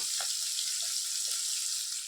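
Taki fish sizzling and frying in oil in a pan, a steady loud hiss running throughout with faint pops, no one talking.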